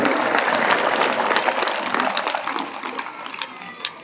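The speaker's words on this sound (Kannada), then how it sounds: "ಮತ್ತೊಮ್ಮೆ ಜೋರಾದ ಚಪ್ಪಾಳೆಯೊಂದಿಗೆ ಎಲ್ಲರನ್ನು ಸ್ವಾಗತ ಮಾಡೋಣ" An audience at a Basava religious gathering in Madan Hipparga claps loudly, dense applause with crisp individual claps close by, strongest early and slowly thinning toward the end.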